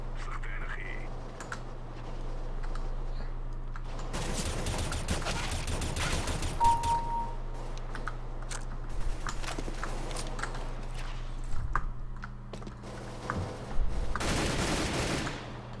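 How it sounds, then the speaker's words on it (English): Gunfire in the video game Counter-Strike: Global Offensive, revolver rounds among other shots, bursts of shots with clattering sounds scattered through a steady game background, with a voice heard intermittently. "Why are you shooting at me?"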